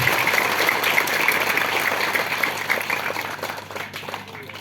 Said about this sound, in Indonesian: Kita tepuk tangan buat Bapak Presiden Joko Widodo.